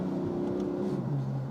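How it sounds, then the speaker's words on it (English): A sports car's engine blips on a downshift while cornering at speed, a close steady drone that climbs in pitch near the end of a short burst. "There we go, little downshift."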